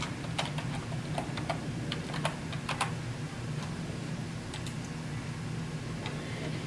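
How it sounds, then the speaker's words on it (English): Keys tapped on a computer keyboard while a password is entered, a run of light, quiet clicks in irregular bursts over a soft background hum. "Type in your password."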